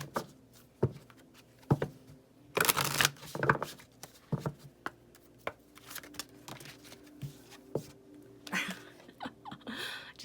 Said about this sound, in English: I shuffled them and this still wanted to come out